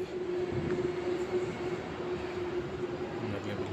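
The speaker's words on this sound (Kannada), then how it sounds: "ಈಗ ಮೆಟ್ರೋ ಬರ್ತಿದೆ." Metro train arriving at a station platform, a steady low rumble with a sustained electric hum, moderately loud and continuous throughout.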